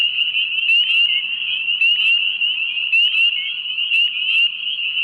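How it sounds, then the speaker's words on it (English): Wood frogs calling at night in early spring: a dense, steady chorus of overlapping calls from a distance, running without a break the whole time. "We're hearing wood frogs off in the background"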